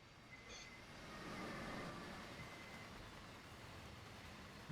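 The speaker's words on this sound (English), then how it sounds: "just let the train speed up." A BR 185.5 electric locomotive pulls a Zacns freight train between Wuppertal and Hagen in the Train Sim World game, giving a faint, low rolling rumble that swells slightly as it gains speed, with a thin tonal whine early on.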